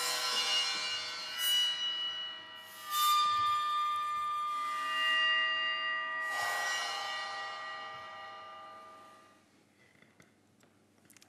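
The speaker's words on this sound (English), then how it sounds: "And now the original recording of a boat cymbal." A boat cymbal is struck several times, each hit a bright shimmering metallic crash that rings and slowly decays into quiet, heard alone without talk.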